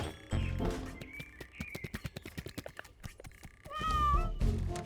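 A cat meows several times nearby, with a long plaintive meow at the start and another near the end, separated by a run of soft tapping sounds.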